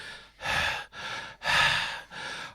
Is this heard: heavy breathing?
yes